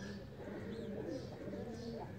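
Nawab breed pigeons coo softly in a loft, a low steady burbling with faint chirps over a constant background murmur.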